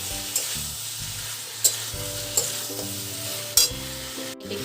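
Fish curry with a pinch of chilli powder being stirred in a frying pan, a spoon scraping with a few sharp clinks against a steady close sizzle, with faint background music tones underneath.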